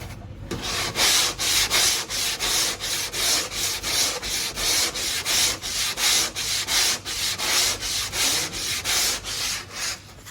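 Steady rhythmic sanding of filler putty over a composite surface, a rough scraping stroke repeated back and forth about twice a second, close and loud throughout.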